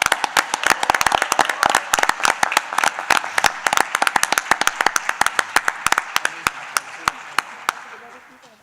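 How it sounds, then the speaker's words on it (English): An audience at a school district event honoring Mooresville High School's graduation rate claps loudly and steadily, with dense crisp claps that gradually thin out and fade near the end. "Let's give them another round of applause"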